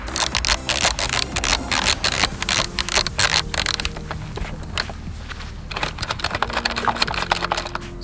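A socket wrench loosening side screws on a 2004 Honda Odyssey during an oil and air filter change gives off dense, rapid metallic ratcheting clicks and scrapes, close and busy throughout, easing briefly midway before resuming.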